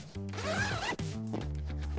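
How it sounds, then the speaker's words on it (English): A zipper drawn shut along a sofa pillow cover: one continuous, loud, close rasping pull lasting about a second, followed by a second shorter zip run. "drop it, and then zip it up"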